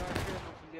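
A company's musket volley in the Civil War game War of Rights erupts as one loud, dense crack that rolls into a fading rumble, with voices underneath.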